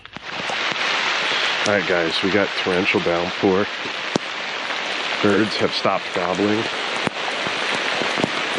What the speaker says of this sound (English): we got torrential downpour.